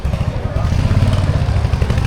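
A scooter ridden along a street, its engine giving a steady, close low rumble with road and wind noise throughout.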